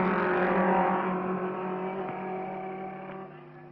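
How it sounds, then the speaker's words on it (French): A Connaught racing car at the Glover Trophy race runs past the grandstands on the circuit, its loud, steady engine note fading slightly as it moves away. No other cars or voices are heard. "Un peu de calme devant les tribunes sur le circuit actuellement. Seul le numéro 4 passe, Lewis Evans, toujours en deuxième position,"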